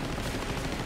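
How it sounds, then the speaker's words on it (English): Aircraft machine guns fire in a continuous rapid rattle during a WW2 Hellcat night dogfight, a dense, steady burst lasting under a second. "his guns were all firing"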